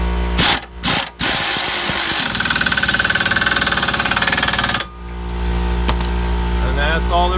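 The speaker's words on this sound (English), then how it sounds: "If you have an air gun, just hammer it home." A pneumatic air impact wrench hammers a large nut onto a sway bar end link on a 2013 Kia Sorento, with a few short bursts followed by a long, loud rapid rattling run, then a quieter tail.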